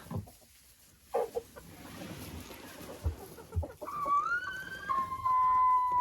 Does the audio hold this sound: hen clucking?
yes